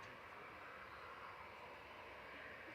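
An Airbus A380 climbing away after takeoff from runway 23L at Manchester Airport gives a steady, broad jet roar that holds evenly throughout, distant and with no voices.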